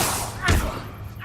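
An Incendio fire spell is cast in Hogwarts Legacy, a single dull, punchy burst in the middle of the clip, with a short flare of sound at the very end.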